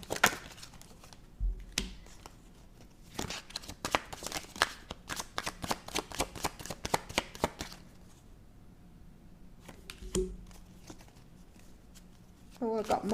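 A tarot deck being shuffled by hand, a close rapid run of riffling flicks in two bursts, with quieter pauses between them and at the start and end.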